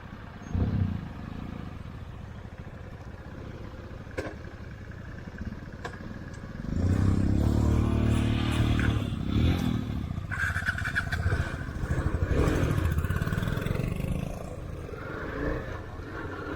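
A motorcycle roars past on a hill road at Baradi Betta, loud and close, its engine swelling from about the middle of the stretch and holding strong before easing off, with lighter road clatter earlier.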